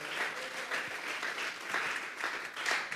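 A church congregation at a Sunday service claps together in a steady wash of applause, moderately distant and fairly soft, with slight swells in intensity.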